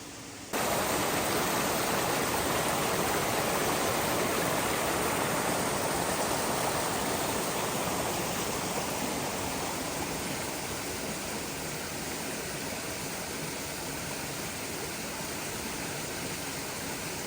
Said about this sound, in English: I'm crossing the river.